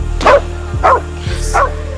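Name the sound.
dog barking a warning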